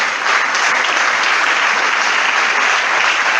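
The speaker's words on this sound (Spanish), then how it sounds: "Dale un fuerte aplauso al Señor." Loud, dense applause from a congregation during a Spanish-language church service, a steady sustained clapping that fills the whole moment without a break.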